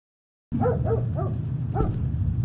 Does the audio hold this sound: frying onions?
no